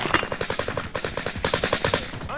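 Rapid automatic gunfire in the Call of Duty: Modern Warfare video game, a fast unbroken rattle of shots with a denser, louder stretch in the second half, close and sharp, with no voices.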